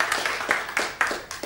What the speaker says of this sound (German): Nochmal Applaus für Katja Nick.